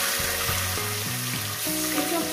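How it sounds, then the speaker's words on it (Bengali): Spices or vegetables sizzle steadily in a hot pan while preparing a katla fish head chorchori with radish greens, a continuous close frying hiss under sustained background music tones. "কয়েক সেকেন্ড ভেজে নেব।"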